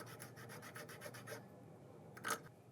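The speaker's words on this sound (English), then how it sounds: "You can use the file on a multi-tool and just gently rubbing back," A cutleaf toothwort rhizome is rubbed on the file of a multi-tool outdoors to make a paste, giving faint rhythmic rasping strokes, then a pause and one brief louder scrape.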